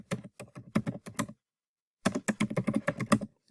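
Quick bursts of typing on a computer keyboard, clustered key taps in two runs separated by a short pause, close and clear with no talk.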